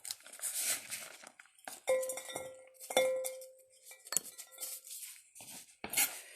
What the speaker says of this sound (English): I'm going to put the chopped dates and chopped apricots into my bowl